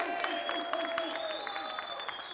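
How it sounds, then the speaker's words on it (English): A live studio audience on a talk show applauds a special guest, a steady wash of clapping under music-like tones, fairly quiet throughout the short stretch. "How about a round of applause for our special guest, Birdie?"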